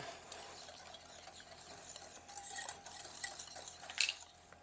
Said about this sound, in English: We're going to whisk this up.